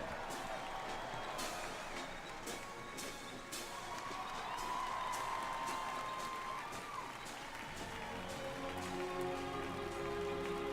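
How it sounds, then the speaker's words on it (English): Outdoor applause for the 82nd Airborne Ceremonial Band at the Army 250th anniversary parade, a broad, steady patter of clapping from a large crowd with a few sharper claps and faint cheering. "Give them a big round of applause, the 82nd Airborne Ceremonial Band."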